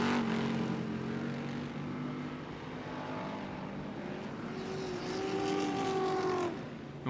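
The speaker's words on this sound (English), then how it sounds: "they're racing wheel to wheel right now" Ultra4 off-road race cars at night at Crandon, running wheel to wheel, produce a continuous engine roar from several machines, with pitch rising and falling as they pass at a distance.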